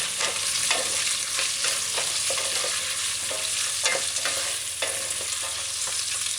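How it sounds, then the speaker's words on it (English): Onions stir-fry in a pan as a wooden spoon pushes them around, giving a steady hiss of sizzling broken by soft, regular scraping strokes, close and without talk. "so add the onions. And use your wooden spoon and stir fry."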